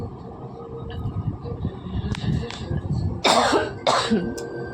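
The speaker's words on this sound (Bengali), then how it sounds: "এখন কাশি হচ্ছে" A person with a cough caught from cold drinks in hot weather coughs twice in quick succession, loud and close. Low indoor rumble sits underneath.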